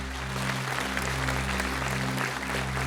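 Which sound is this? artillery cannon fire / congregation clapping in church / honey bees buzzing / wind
congregation clapping in church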